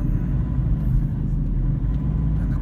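A taxi rolls along a city street around Timog, Thomas Morato and E Rodriguez in Quezon City before dawn, giving a steady, close, low engine and road rumble with no voices.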